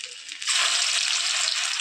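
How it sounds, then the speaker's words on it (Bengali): Banana flower fritters drop into hot oil in a wok and set off a sudden, loud, steady sizzle that holds without break, with no talking. "এখন বড়াগুলো ভাজবো।"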